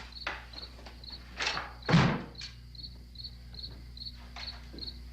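Crickets chirp at night in the horror film Night of the Living Dead, a steady repeating high trill throughout, broken by several dull thumps and one louder knock near the middle.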